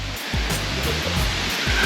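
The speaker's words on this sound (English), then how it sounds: "walking down to the waterfalls" Kanto Lampo waterfall in Sideman, East Bali, a loud, continuous roar of falling water with a broad hissing rush and low rumble, heard up close without talk.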